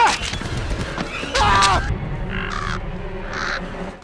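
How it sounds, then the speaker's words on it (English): A flock of crows caws harshly during a dramatic movie attack scene, with several loud calls overlapping and a narrator speaking over them. "John was suddenly attacked by a flock of crows"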